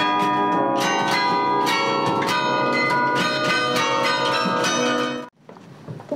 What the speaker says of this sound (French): Sinon c'est un plaisir de jouer, même si le carillon est dur, on a tous beaucoup de plaisir à jouer ici à Mons.